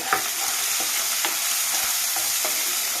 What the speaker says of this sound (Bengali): দিয়ে এটাকে আবারও নাড়িয়ে চাড়িয়ে নেব